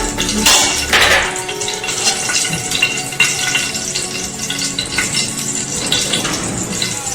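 Hot ghee and oil hiss and crackle steadily in a pan for tempering, a loud continuous sizzle with occasional sharper pops, close up and with no talking.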